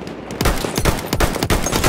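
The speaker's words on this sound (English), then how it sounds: "Enemy soldier sighted! There's a machine gun!" Rapid machine gun fire in a war video game, loud, dense bursts of shots close by, filling the whole moment without pause.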